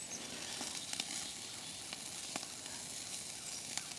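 Food searing on a charcoal-fueled Firebox stove by a lake, giving a steady, faint sizzle and hiss with scattered small crackles and pops throughout.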